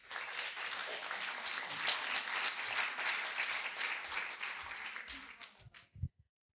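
Audience applause greeting the next speaker at a pitching event, a full, steady round of many hands clapping that thins into a few scattered claps before fading to silence.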